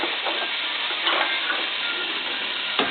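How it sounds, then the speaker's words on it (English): Orange and red peppers sizzle steadily in a hot pan with olive oil, a continuous close frying hiss with light stirring scrapes throughout. "Add those right in there. Some good heat going there. And just give them a stir."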